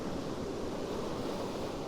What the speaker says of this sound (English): these waves are getting pretty tough going now